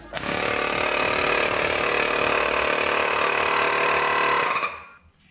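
A small portable air compressor pump starts up and runs with a loud, steady buzzing motor drone for several seconds, then cuts off abruptly, leaving near silence.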